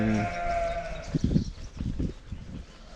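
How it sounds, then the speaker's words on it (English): A sheep bleats loudly and close by with a wavering cry, followed by a few shorter, rougher bleats. "And you hear the sheep in"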